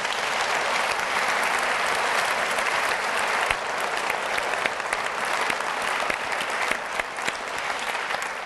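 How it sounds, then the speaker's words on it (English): A conference audience applauds the CEO of Arrow Electronics in a steady, full wash of clapping that holds at an even level throughout. "let's give him another round of applause"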